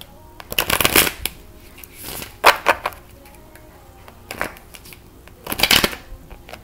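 Moonology oracle cards are shuffled by hand in several quick riffling bursts, close and crisp, separated by short pauses.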